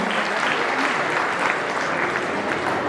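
Applause from the audience in a hall at a swearing-in ceremony, steady and fairly loud throughout without pause.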